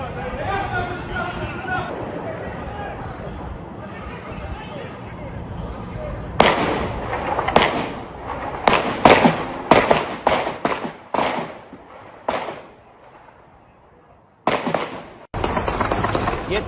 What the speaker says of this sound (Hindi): ये ताबड़तोड़ फायरिंग इस समय चल रही है।